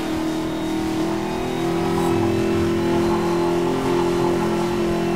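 A sluggish car in Need for Speed holds a loud, steady engine drone with a strong sustained tone, rising slightly as it revs, close and unbroken without speech.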